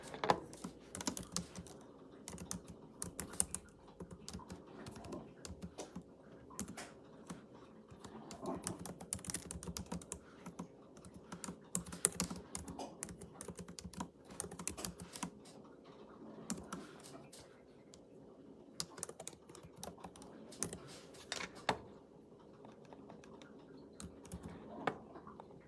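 Steady, fast typing on a computer keyboard, with dense clustered key clicks running continuously at close range and no talking.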